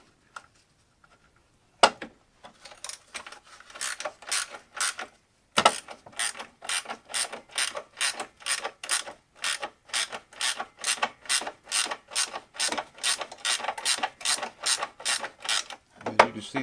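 A ratchet wrench turns bolts on a Polaris Sportsman ATV front A-arm, making a long run of quick, even, close ratcheting clicks after a few opening strokes.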